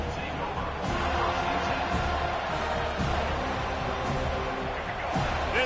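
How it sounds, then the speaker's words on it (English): Steady roar of a football stadium crowd pressing against the visiting offense, loud and continuous with brief swells, heard without any nearby talk. "This crowd trying to make life miserable for this offense."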